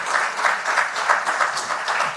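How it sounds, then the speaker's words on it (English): Sustained applause from an audience, a dense steady clatter of many hands clapping at once, fairly loud and continuous throughout with no voices. "I think we should begin with another round of applause."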